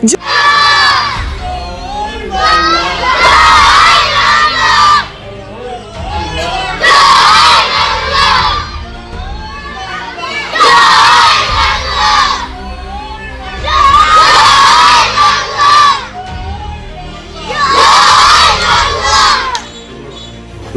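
Children at a government primary school chant a political slogan in unison, loud crowded shouts in repeated bursts every few seconds, with brief lulls of murmuring between each cry.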